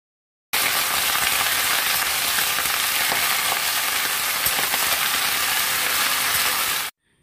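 Taro, radish and Malabar spinach hit hot oil with tempering spices, grated ginger and green chillies, giving a loud, steady hiss and sizzle that starts abruptly, holds evenly and cuts off, with no talking.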